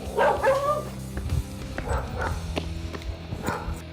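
Lucy, a dog-aggressive and house-territorial dog, lets out several short barks and yips close by, in irregular bursts with a whimpering edge, over a quiet room.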